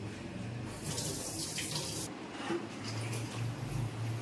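Tap water runs into a sink while cups are washed after tea in a home kitchen, a steady splashing stream with shifting splashes and clinks as the cups move under it.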